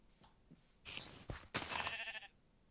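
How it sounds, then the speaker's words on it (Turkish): Sheep in the Minecraft video game bleat in two or three short, bright calls close by, standing out over a quiet background with no talk. "Koyunlarımız var."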